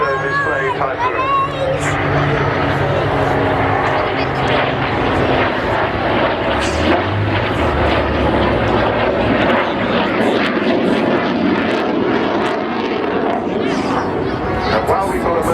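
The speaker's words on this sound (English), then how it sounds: "flying the same typhoon that we saw earlier, the very elegantly marked 29 Squadron solo display typhoon" A Eurofighter Typhoon jet in a 29 Squadron solo display at an air show, its loud roaring engine noise filling the whole stretch, with crowd ambience and a commentator's voice over it.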